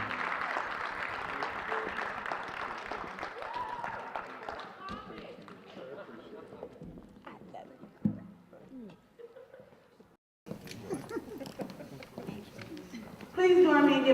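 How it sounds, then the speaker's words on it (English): Applause from a ceremony audience for a group of board of education honorees, a broad wash of clapping that fills the first few seconds and then thins out, followed by a voice speaking at a microphone. "Let's give them a round of applause"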